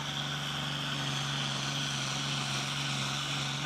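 A competition pulling tractor engine at a tractor pulling event runs flat out at its RPM limit, a loud, steady, droning roar with a strong low hum that holds without a break throughout.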